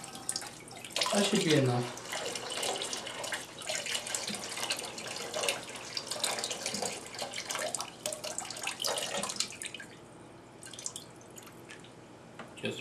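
Water draining through a siphon hose from a home fish tank during a water change, a continuous trickling and dripping flow under a man's nearby speech, easing off toward the end.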